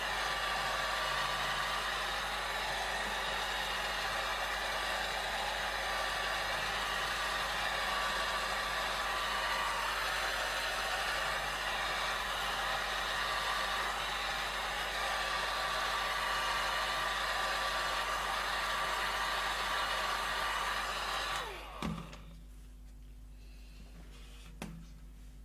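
Hair dryer blowing steadily to dry alcohol inks, a loud continuous close-up whoosh that runs unbroken for about twenty seconds before being switched off, leaving near silence.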